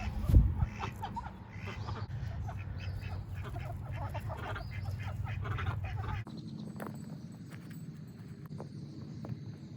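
A backyard flock of chickens clucks and calls in a busy, overlapping chorus, with some low rumbling handling noise early on. The birds quieten somewhat partway through.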